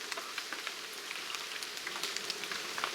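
Heavy jungle rain pours down steadily, a dense, close hiss of drops striking leaves and surfaces with no voices.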